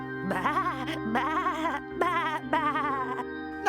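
Sheep in the video game Discworld II bleat in four loud, wavering cries back to back, close and clear over a low steady background hum.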